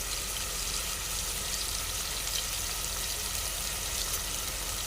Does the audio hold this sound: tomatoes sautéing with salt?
yes